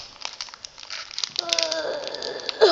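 Plastic packaging on a My Little Pony toy being pulled and crinkled open, with close, continuous crackling and rustling that builds to a louder rip near the end.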